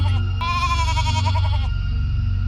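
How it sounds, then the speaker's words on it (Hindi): A tethered goat bleats once in a single wavering cry at close range, over a steady low drone. "नीचे बांधा गया था एक बकरा, जिसकी हल्की हल्की मिमियाहट सन्नाटे को और डरावना बना रही"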